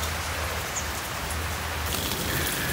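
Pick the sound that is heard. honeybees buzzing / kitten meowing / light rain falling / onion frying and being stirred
light rain falling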